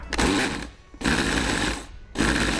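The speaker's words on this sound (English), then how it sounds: "So we're just going to blend this, and it's going to get super noisy in just a minute." A loud blender whirs in three bursts, grinding tomato paste roughly with brief pauses between, close to the microphone and without talk.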